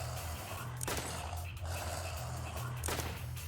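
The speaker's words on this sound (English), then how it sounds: "The only thing that we need to do is shoot him." Gunfire in the video game Malum, with two sharp, heavy bursts spaced a couple of seconds apart over a low rumbling game background, fairly quiet overall.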